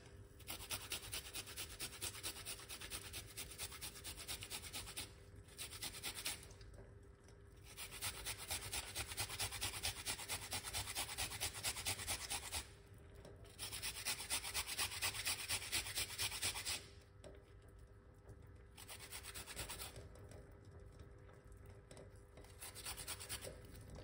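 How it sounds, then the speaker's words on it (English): A small piece of ginger is grated by hand in repeated rasping strokes, each lasting a few seconds with brief pauses between, close and fairly quiet with no talk. "We're gonna grate a little piece of a ginger."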